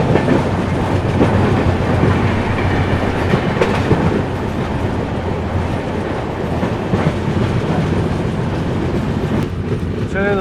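Andhra Pradesh SF Express, train 20806, running at speed on rails near Kazipet, a loud continuous roar with steady wheel clatter throughout and occasional higher squeals near the end.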